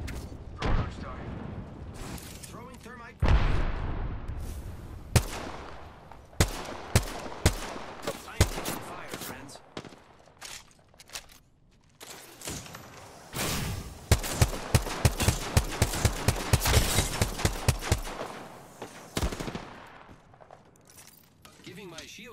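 Gunfire in the Apex Legends battle royale game, with rapid automatic bursts and single sharp shots that come in dense clusters, close and loud, while a voice talks over parts of it.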